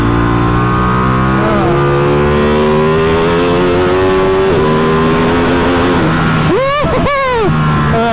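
Several old V-twin motorcycles rev hard on a track day, a loud, continuous engine roar with rising and falling pitch sweeps as bikes accelerate and pass close by, the sound filling the whole stretch.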